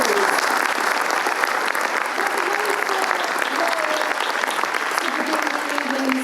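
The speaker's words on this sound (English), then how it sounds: "Can we have another round of applause, please?" An audience at a ballet company's anniversary gala delivers a sustained round of loud, dense applause, continuous clapping with a few voices mingling in the room.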